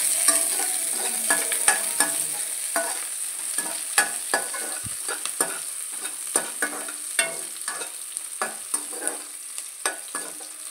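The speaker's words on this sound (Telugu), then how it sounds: "పుదీనా కూడా ఇప్పుడు యాడ్ చేసుకోవాలంటే మనం ఫ్రై చేయాలి" Mint leaves frying in a pan with garam masala and onions, ahead of chicken: a steady hiss and crackle with sharp spatula scrapes and stirring clatters repeating every half second or so, close and continuous, with no voices.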